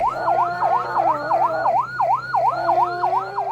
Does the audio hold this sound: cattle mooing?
no